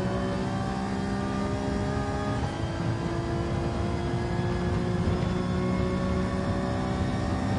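Continuous engine drone from a car in a racing video game, a steady mid-pitched revving hum with shifting tones, carrying on without pause and no talk over it.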